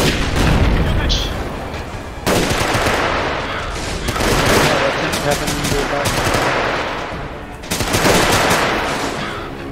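Heavy artillery booms and bursts of machine-gun fire from a war video game crash repeatedly in dense, loud volleys, with players talking over the din.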